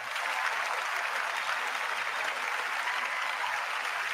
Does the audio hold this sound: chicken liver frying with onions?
no